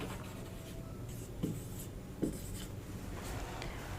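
A pen writes a math proof on paper for a class 10 NCERT exercise, a soft continuous scratching with a few sharper taps of the pen, close and quiet.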